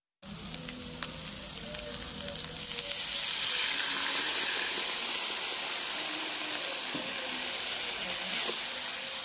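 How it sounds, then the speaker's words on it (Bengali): Water is poured into a hot cooking pot of curry, with an initial crackle swelling after a few seconds into a loud, steady steam hiss and sizzle that holds close and continuous. "এখন আমি জল দেবো, একটু জল দিয়ে তারপরে গরমটা বেটে নেব।"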